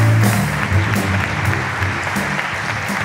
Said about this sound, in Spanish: Fuerte el aplauso, che